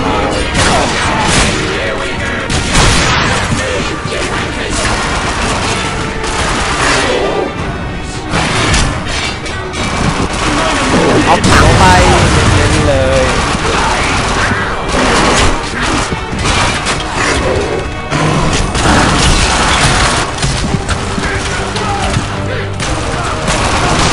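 Dense barrage of shotgun blasts and crashing impacts from the video game The Darkness 2, loud and nearly continuous, with a voice speaking over the gunfire.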